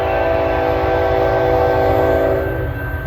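A CN freight train led by a Tier 4 locomotive, number 3066, rolls by close south of Ladysmith, producing a loud, steady rumble with rhythmic wheel clatter and a sustained tonal hum.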